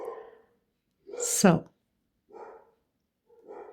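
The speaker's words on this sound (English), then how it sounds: "Dogs must be seeing some cats going by. They go nuts." Pet dogs bark from a distance while someone talks steadily over them. One louder, higher yelp stands out between stretches of speech.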